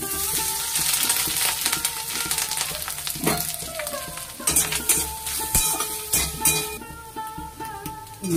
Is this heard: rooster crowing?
no